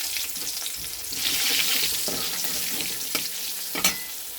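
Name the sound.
nigella seeds and green chilies sizzling in hot oil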